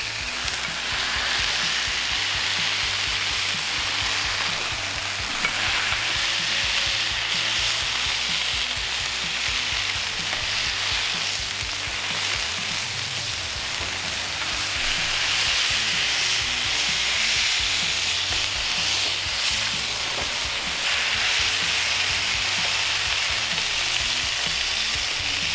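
Smash burger patties frying on a hot griddle, a loud, steady, dense sizzle that carries on without a break for the whole stretch, close up, with no voices.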